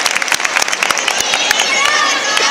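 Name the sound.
audience applause for the dancers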